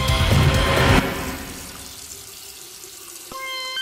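Brown, coffee-coloured water runs from a household tap in a subdivision of Camaya Hills, a loud splashing stream for about a second that then drops to a softer trickle, with a brief meow-like sound near the end.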